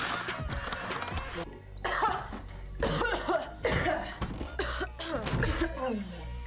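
Repeated coughing fits, close and loud, broken by gasping breaths, with bits of laughter-like sounds mixed in.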